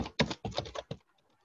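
Keys tapped on a computer keyboard while a buyer request is typed, a close, quick burst of clicks that stops abruptly and leaves near silence.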